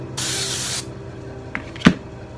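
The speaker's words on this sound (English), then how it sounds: "Make sure I get it sprayed on there." A spray gun hisses out one steady burst of plastic onto molds for about half a second, followed by a quiet pause and a couple of small clicks.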